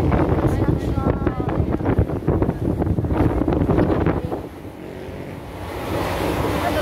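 Sea waves and wind along the coast at Carmen, near Catmon, Cebu: a broad roar of surf with gusty wind buffeting the microphone, fading somewhat toward the end, with people talking over it.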